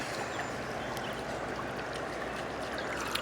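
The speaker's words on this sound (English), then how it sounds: "I'm going to try to dump out my snuffer bottle in the pan" A snuffer bottle is emptied into a gold pan outdoors, a steady watery trickle and pour running continuously at close range with no talking.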